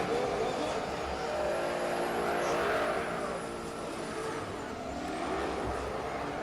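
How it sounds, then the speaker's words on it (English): Drift car at a drift championship spinning and wearing down its rear tyres, a continuous loud engine roar with shifting pitch and tyre screech, steady throughout with the crowd and commentary beneath. "So Benedictus Cherba just destroys the tyres on the back of the car"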